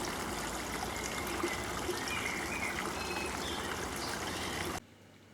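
A spring near a castle's grounds trickles and babbles in a steady, moderately close stream of running water, continuous and without talk, ending abruptly.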